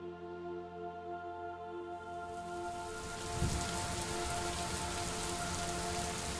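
Steady rain in the video game Superliminal fades in and grows to a constant hiss, with a low hum under it and a faint rumble partway through.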